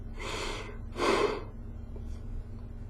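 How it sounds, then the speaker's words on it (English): A person inhales and exhales through the mouth: two quick, breathy airy puffs close to the ear, about half a second each, followed by a fainter third breath. "Listen how long it takes for me to take a single breath of air, inhaling and exhaling through my mouth"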